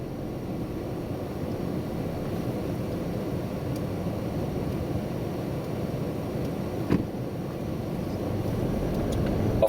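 An Alfa Romeo Giulia 2.0 Super being driven gives a low, even engine and exhaust drone under road noise, smooth and without burble, with a brief knock near the end.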